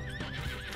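Horse whinnying loudly and close in Red Dead Online, a short wavering neigh with hoof clops underneath.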